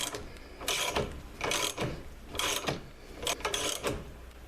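A new U-joint being pressed into a drive shaft bearing cup, giving four loud mechanical bursts of clicking, ratcheting metal at roughly one-second intervals, close by with no talking.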